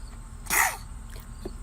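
A baby gives a single short sneeze, close and clear, a quick burst that rises out of quiet room noise.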